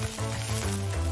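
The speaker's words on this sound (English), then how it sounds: "They continue frying." Onions fry in a pan, sizzling in an even, continuous hiss at close range.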